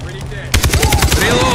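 Automatic gunfire erupts in Far Cry 3: a close, loud rapid burst of shots after a brief quieter lead-in. The shots ring out in a fast rhythmic stutter.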